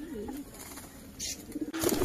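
A pigeon coos repeatedly toward a newly arrived pigeon in a home loft, soft throaty calls rising and falling close by over a light background hiss, with no talking.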